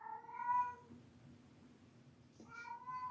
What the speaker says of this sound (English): the cat's actually meowing